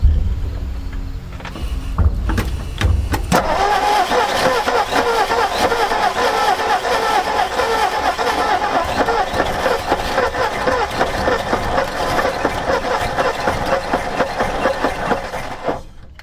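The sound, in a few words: old abandoned panel truck engine revving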